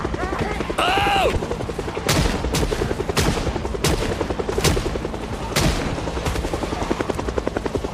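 Pistol gunfire in Project Zomboid, several sharp, separate shots spaced out over a steady mechanical drone, with a brief rising tone near the start and a voice talking.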